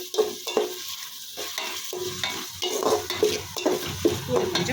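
Mint, coriander, green chilli and tomato sauté in a pan, crackling with repeated stirring scrapes and clinks, close and moderately loud throughout.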